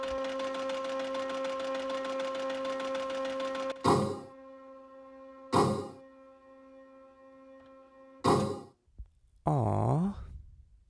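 A slot machine being played: a steady mechanical whirring with ringing tones runs for several seconds, then three short clunking stops separated by silence and a final jingling burst.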